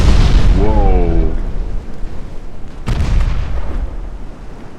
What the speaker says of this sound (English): He was just nailed by the 9-inch cannon